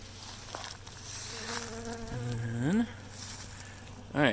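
Honeybees buzz steadily inside an opened Flow Hive during a first inspection, a close, continuous droning with rising whine-like wingbeat tones sweeping upward near the end.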